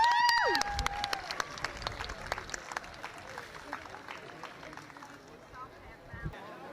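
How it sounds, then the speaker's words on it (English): At an outdoor political rally, a crowd cheers and claps with scattered, uneven claps and calls that thin out over time, while people talk nearby and a whistle-like tone sounds at the start. "let's give a cheer for him"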